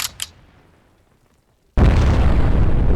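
A short blip, a stretch of near silence, then a sudden loud, sustained bomb explosion roar in Garry's Mod that fills the rest of the clip.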